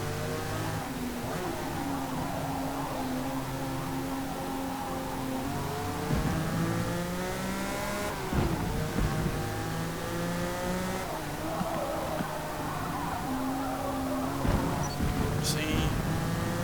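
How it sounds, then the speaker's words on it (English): A turbocharged V12 race car in Forza Motorsport revs hard and keeps climbing through gear changes, a loud, continuous engine roar with occasional tire noise and someone talking over it. "These turbochargers are not able to nullify that V12 engine."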